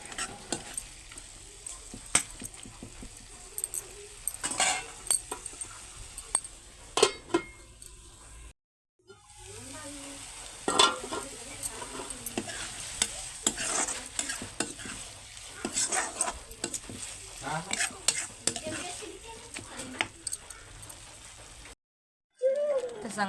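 Food cooks in a pan on a home stove, with a quiet sizzle and frequent clinks and scrapes of a stirring spoon against the pan. There are two brief silent breaks.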